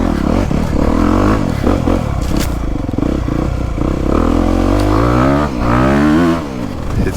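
A Honda CRF250R or KTM 350 dirt bike engine revs hard and close, rising and falling in pitch through repeated throttle bursts and gear changes, loud and continuous with no speech.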